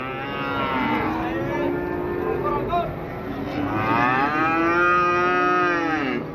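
Cattle at a livestock market in Wirosari, two loud, drawn-out moos in a row, close by and filling the whole stretch, with no talk over them.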